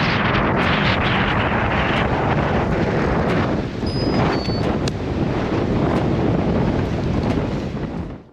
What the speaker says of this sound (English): That is really, really insane wind.